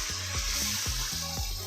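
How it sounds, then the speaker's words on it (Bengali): Chili, turmeric and coriander powders frying in a pan for beef rezala, a dense continuous sizzle with a rhythmic series of scraping strokes roughly every quarter second as the mixture is worked, close and alone. "মশলাটা কষানোর জন্য।"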